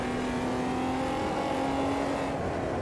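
1999 Omega stock cars racing in AMS2 produce a steady sustained engine drone holding a constant pitch, loud and continuous with no talking.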